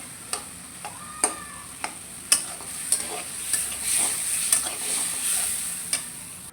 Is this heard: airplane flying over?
no